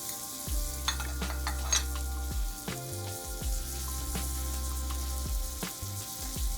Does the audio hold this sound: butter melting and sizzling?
yes